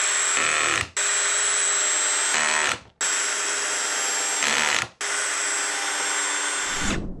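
A Ryobi cordless drill with a big battery runs in first gear, whirring loudly in several bursts of a second or two, each ending in an abrupt stop before the motor starts again.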